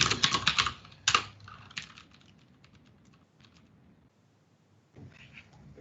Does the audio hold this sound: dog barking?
no